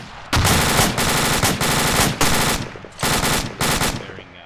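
Sustained machine gun bursts from an Arma 2 firefight, loud and close, in four or five long rattling strings separated by brief pauses, with no voices over the shooting.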